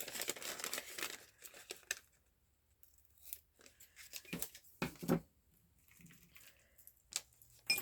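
Paper being cut with scissors at close range, heard as a few quiet, scattered snips and rustles with pauses between them.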